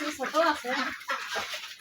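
Khaki Campbell ducks about two months old give short honking quacks and clucking calls, several birds close by, with people talking over them.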